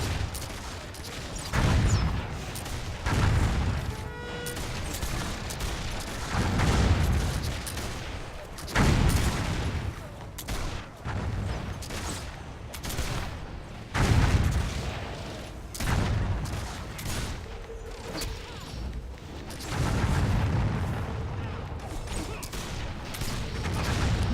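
Rapid gunfire from a shadow warrior in a Warhammer video game, bursts of sharp shots repeating every few seconds over continuous game ambience and mixed effects, moderately loud.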